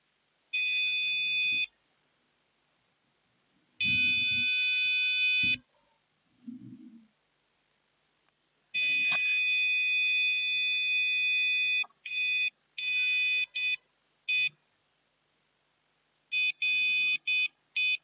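An Arduino buzzer alarm triggered by an ultrasonic sensor sounding an intruder warning: loud, piercing electronic beeps in long bursts and short stuttering pulses, with quiet gaps and faint handling noise between them.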